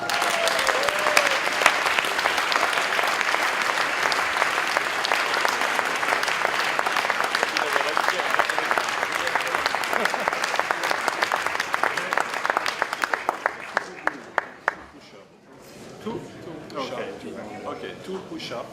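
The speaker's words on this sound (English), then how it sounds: "J'aimerais que vous applaudissiez pour la 2e fois Yann de Schepper." Audience at an EMBA graduation ceremony applauding, a loud, dense clapping that continues for about thirteen seconds and then thins into a few scattered claps before dying away.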